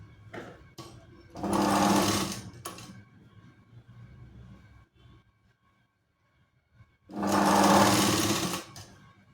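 A sewing machine stitches Katori blouse panels together along the seam margin in two short bursts of rapid whirring, separated by a quiet pause with faint fabric handling.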